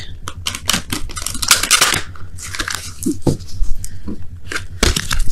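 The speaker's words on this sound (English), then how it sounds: "let me go ahead and quickly shuffle these" Rapid, crisp riffling and flapping of tarot cards being shuffled close by, in dense bursts with brief pauses.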